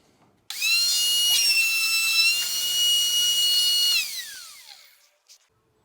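A spinning router bit on a router table with a split fence and Incra LS positioner cutting wood, a loud steady high-pitched whine that starts abruptly, holds for several seconds, then winds down and fades out.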